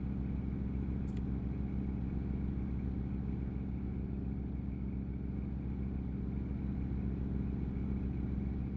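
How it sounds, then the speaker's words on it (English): Steady low droning rumble of a simulated truck engine in American Truck Simulator, idling or cruising evenly throughout with a strong deep hum and a brief high click near the start. "truck engine."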